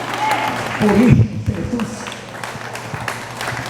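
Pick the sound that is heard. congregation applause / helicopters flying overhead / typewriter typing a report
congregation applause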